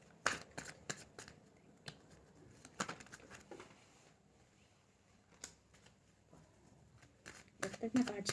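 Tarot cards are shuffled for a love reading, producing quick riffling flutters and soft slaps in bursts, with someone speaking quietly over them.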